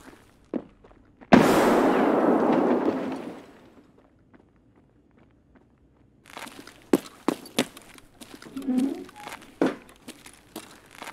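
A grenade goes off in Escape from Tarkov: one sudden loud burst that rumbles and fades over about two seconds, followed later by scattered thumps and footstep-like knocks.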